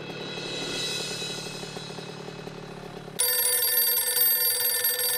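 A telephone rings in a shop, first as a steady tonal trill, then jumping to a louder, brighter ringing tone that continues without any voices.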